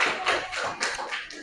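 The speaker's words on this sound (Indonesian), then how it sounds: "tepuk tangan dulu untuk kelompok 2." Students in a classroom clap briefly for group 2, a short burst of overlapping hand claps heard close and fairly loud, fading within a second and a half.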